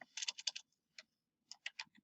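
Keys clatter on a computer keyboard in two quick bursts of close, crisp taps separated by a short pause, in a quiet room.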